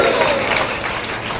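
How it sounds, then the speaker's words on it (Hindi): A crowd at a Bhagwat katha religious gathering in Baraut, Uttar Pradesh, gives loud applause for Shri Mithilesh Tiwari, a dense, even wash of clapping that fills the brief moment. "श्री मिथिलेश तिवारी जी को के लिए जोरदार तालियां"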